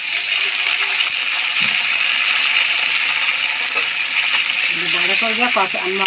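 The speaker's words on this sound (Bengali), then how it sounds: "জল দিয়ে দিই" Water is poured into a hot pan of spices for a fish curry and sends up a loud, hissing sizzle with bubbling and splashing, ending in metallic clinks and a short voice.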